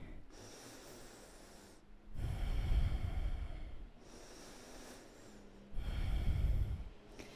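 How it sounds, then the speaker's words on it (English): Deep, slow breathing during a yoga pose, two long audible inhales and exhales through the nose, close and breathy with quiet pauses between, with no talk. "Just breathe into your feet, 3 more breaths."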